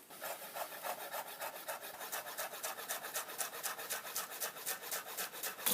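A knife finely cuts fresh parsley in rapid, even strokes, close and steady, with a rasping rhythm of about four cuts per second. No one speaks.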